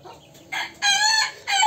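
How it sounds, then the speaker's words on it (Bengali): A local desi rooster lets out a few short, loud calls close by, in quick bursts of clucking that build toward a crow. "এখানে একটা দেশি মুরগ আছে"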